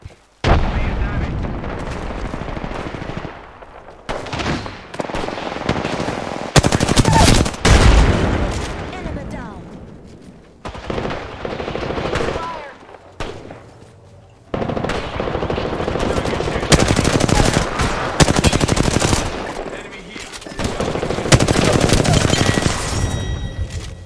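Gunfire in the Apex Legends video game comes as loud, repeated bursts of automatic fire with explosive booms, separated by brief lulls, while a voice talks intermittently.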